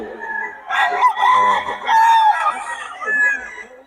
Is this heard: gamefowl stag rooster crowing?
yes